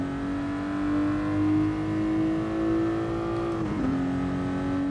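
A race car on sports tyres in Gran Turismo Sport drives with a steady, droning engine tone that rises gently, then dips briefly as the car shifts before settling again, with no talking.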